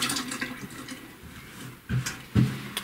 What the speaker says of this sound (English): Wash my finger off.